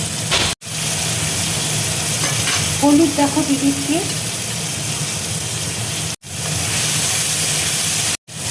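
Tomatoes fry in a pan with loud, continuous hissing and sizzling, broken by brief dropouts and some stirring scrapes, while someone speaks briefly over it.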